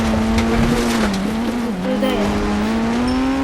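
A Lamborghini in the video game Indian Bike Driving 3D skidding and racing out of control, a loud sustained engine drone with wavering pitch and tire squeal over it, and a voice talking throughout.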